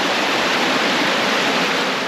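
Cold, fast-running stream water on a trekking trail near Ushuaia, Tierra del Fuego, a loud, continuous close rush and splash with no breaks and no voices.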